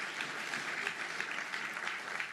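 Audience applauding at a senior officials' performance contracts signing ceremony in Zimbabwe, a dense, sustained wash of many hands clapping at moderate distance.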